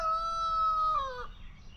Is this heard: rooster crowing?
yes